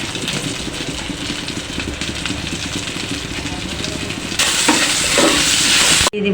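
Dried red chillies hit hot oil in a pan after shrimp has been fried, giving a steady close-up sizzle and crackle that grows louder and brighter for the final two seconds.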